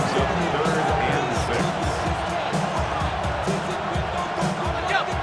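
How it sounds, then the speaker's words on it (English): Stadium crowd noise in the Madden NFL 26 video game, a dense continuous roar of a large football crowd, loud and sustained throughout with faint swells of cheering. "The crowd making their presence felt."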